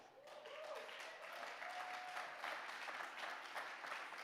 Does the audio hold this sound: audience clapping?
yes